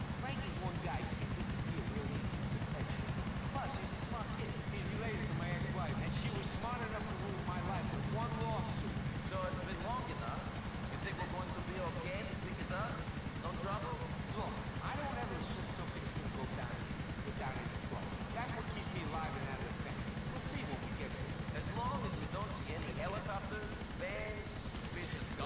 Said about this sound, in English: Look at this, we could just take a helicopter.